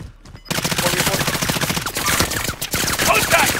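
Rapid bursts of automatic gunfire in a Call of Duty: Modern Warfare match, loud and close, starting after a brief quiet moment and continuing in dense, crackling volleys throughout.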